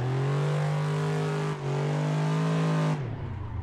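Revving Mustang drift car engine in Assetto Corsa, a loud, steady high-pitched drone held for about three seconds, then dropping abruptly as the throttle lifts, with no talk.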